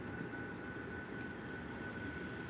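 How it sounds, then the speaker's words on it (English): A Ryanair Boeing 737-800 takes off at Faro Airport in the early morning, its engines a steady, distant roar holding evenly throughout with no voices. "we're gonna have a Ryanair 737-800 take off, I think, to Cork"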